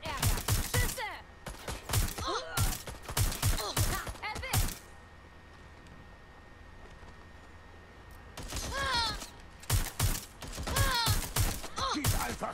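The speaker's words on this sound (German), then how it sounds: "Schüsse!" Gunfire in the video game Watch Dogs Legion comes in two dense volleys of rapid, sharp shots, with a quieter stretch between them and someone talking over the firing.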